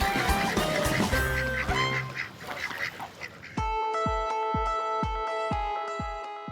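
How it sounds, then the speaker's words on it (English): A duck quacks near water in a wildlife park, with loud, close calls among a noisy mix of sounds, followed by a series of evenly spaced, sharp, resonant pulses. "It turns out you can lead a duck to water."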